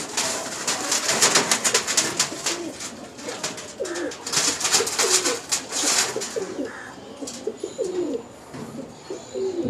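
Domestic pigeons cooing at a busy pigeon market in Uluberia, with repeated low coos running through the whole stretch over a dense crowd murmur and scattered bird noises.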